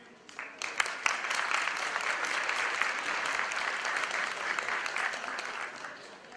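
Audience applause welcoming a speaker to a wine and singani pairing talk, a dense sustained clapping from a room of people that starts abruptly and holds steady throughout.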